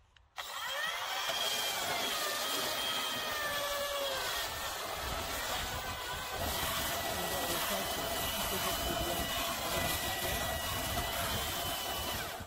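A belt sander grinds steadily against a workpiece in a short sanding trial, a continuous close whir with a rough abrasive texture that holds for several seconds.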